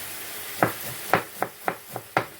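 Vegetables stir-fry in a hot pan for a Polish stir fry, with about six sharp stirring scrapes at an uneven pace over a soft sizzle.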